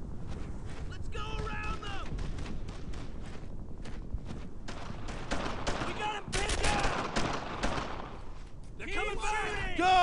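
Dense gunfire in the war game Brothers In Arms: Earned In Blood: rapid bursts and overlapping shots with footsteps, loud and continuous, while voices shout over the battle.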